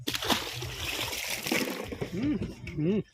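Water splashes and sloshes as large fish are released into a park pond, a busy watery churn with excited voices calling over it near the end.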